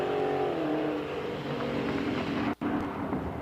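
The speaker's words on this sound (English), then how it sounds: "that's Brian Seary in the orange Dodge Challenger, taking on the supercharged blue Mustang on the right-hand side" At a drag strip, an orange Dodge Challenger races a supercharged blue Mustang, producing a sustained loud engine roar with a steady droning tone and a brief sharp dropout near the end.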